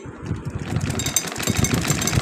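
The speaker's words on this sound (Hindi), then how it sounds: "थोड़ा सा पीछे से दोबारा मैं डबल सिलाई लगा देती हूँ" A sewing machine runs close and steady, stitching a double seam on a kurta with a busy mechanical whir and rapid needle chatter that never pauses.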